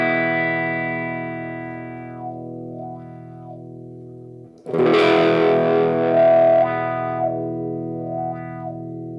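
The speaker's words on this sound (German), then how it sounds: "Nun, es ist ein Wah-Wah-Pedal. Lasst uns kurz reinhören." An electric guitar played through a 1970 Maestro Boomerang BG-2 wah pedal sustains a distorted chord, its tone sweeping up and down in slow wah swells, then a fresh strummed chord rings out loudly and keeps wavering.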